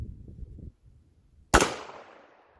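A single sharp rifle shot from .223 Jesse James ammunition cracks loudly after a low rumble and brief quiet, its report trailing off in a short outdoor decay.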